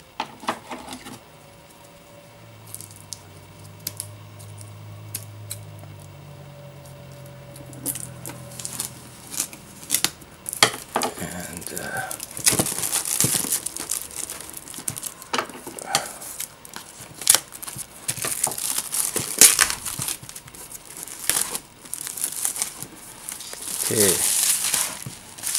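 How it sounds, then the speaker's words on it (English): Shrink wrap comes off a limited edition PS4 game box, at first a quiet rustle and then loud, close crinkling, tearing and scissor snips that go on and off with brief taps. "So now let's remove the shrink wrap."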